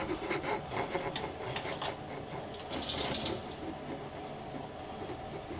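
Water runs and splashes steadily from a basin pop-up waste into a catch container, with scraping and rubbing noises mixed in.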